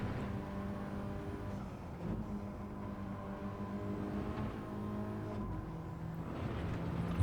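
Steady car engine drone from a track racing video game, a sustained mid-pitched hum with faint gear shifts and slight pitch changes, continuous and moderately quiet with no voices.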